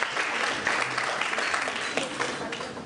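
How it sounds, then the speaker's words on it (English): A crowd at a GNLD company party applauds in a dense, steady roar of many clapping hands, loud and sustained throughout, with no clear speech over it. "Big round of applause."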